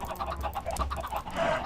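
Chickens in a video game cluck in quick, choppy bursts, a flock of short repeated calls overlapping at moderate volume against a steady background.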